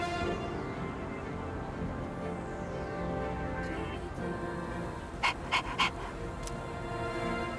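A dog panting in the video game Persona 3 Reload, with soft, quick breaths under a steady musical background and a few sharp clicks near the end.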